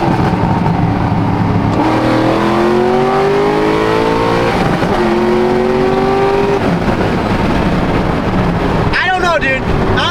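A naturally aspirated BMW M4 accelerates through the gears, with two long rising engine sweeps broken by a quick shift. Wind roar sits underneath, and a voice cuts in near the end.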